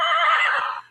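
A toy stick horse gives a single loud, drawn-out whinny that fades near the end, heard alone without speech.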